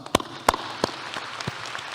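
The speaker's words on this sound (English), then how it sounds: "Let's give them a round of applause." A few sharp, scattered claps ring out at a graduation ceremony as the audience applauds the graduates' parents, then quickly thin into faint, sparse patters against a quiet room.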